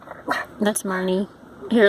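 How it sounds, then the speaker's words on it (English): A pet dog barks indoors in short, sharp yaps that break through and alternate with a person talking close by. "She's just barking right now."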